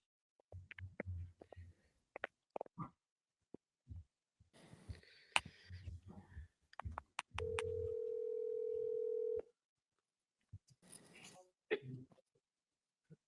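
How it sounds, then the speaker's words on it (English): Telephone call being placed: a string of short dialing tones, a steady tone held for about two seconds, and ringing bursts near the end, all fairly quiet, with people talking around them. "I am going to phone a friend."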